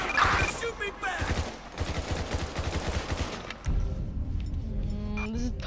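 Rapid gunfire in Grand Theft Auto 5 crackles in a fast steady stream for several seconds and then cuts off, leaving quieter game ambience. Someone talks over the shooting.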